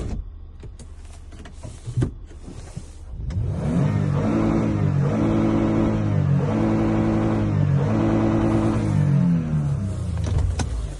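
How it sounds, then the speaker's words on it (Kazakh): A car engine idles, then revs up and down in repeated steady surges, loud and close, with a few clicks and knocks before it starts. "Жалпы Toyotалардың моторы бөлек болады. Оборот алу керемет."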